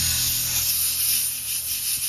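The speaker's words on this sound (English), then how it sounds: "So I like to use compressed air." Compressed air blasting dirt and grime out of an electrical connector on a Freightliner DD16 truck engine: a loud, continuous close-up hiss lasting the whole two seconds.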